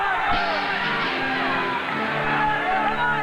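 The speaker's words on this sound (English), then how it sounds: "Parents videotape the action as the combination of half Nelsons and full body slams whips the crowd into a frenzy." A crowd at a high school wrestling match yells, whoops and cheers loudly and continuously, with shouting voices mixed through the din.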